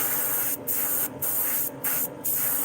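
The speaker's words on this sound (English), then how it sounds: "I'm gonna spray over that tail and that nose a lot more than the other parts of the body" Spray paint hisses onto a smallmouth bass model in four short bursts with brief pauses, close and fairly loud, no talking.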